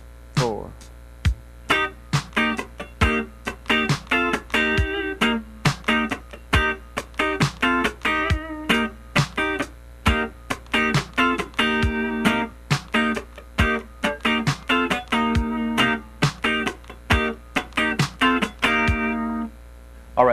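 A funk rhythm guitar part built on one chord voicing is played slowly and alone: clipped, percussive chord stabs in a steady rhythm for about twenty seconds, close and clear.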